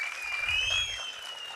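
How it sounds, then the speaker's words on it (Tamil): An audience at a youth singing talent show claps for a singer, a short burst of dense applause with a faint whistle-like tone above it, fading slightly toward the end. "அகைன் ஒரு பெரிய கைத்தட்டல் கொடுத்துடலாமா?"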